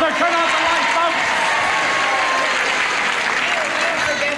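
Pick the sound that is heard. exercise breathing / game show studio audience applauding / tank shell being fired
game show studio audience applauding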